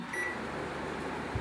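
Kitchen oven being set to preheat for baking cupcakes gives one brief, thin electronic beep at the start, followed by a low, steady hum.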